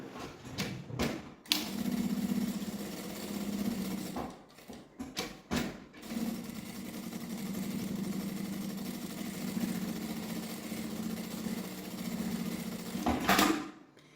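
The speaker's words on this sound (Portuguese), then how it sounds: "agora eu vou passar uma costurinha na beiradinha em toda a volta" Sewing machine stitching around the edge of fabric for a sling backpack, a steady close humming whir running in long stretches, broken by brief pauses and clicks.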